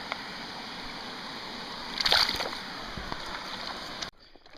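A small waterfall pours into a trout stream on Pine Creek in Tioga, Pennsylvania, on a June evening: a steady, close rushing wash with a brief louder splash midway, then it cuts off abruptly near the end.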